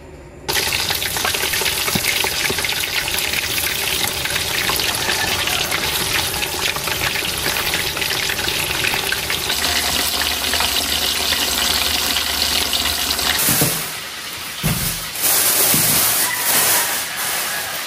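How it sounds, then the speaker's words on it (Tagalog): Chicken pieces fry in hot oil with a continuous loud sizzle and hiss that runs steadily for most of the stretch, then briefly drops away before resuming near the end; no one speaks. "habang nagpiprito na po tayo ng manok"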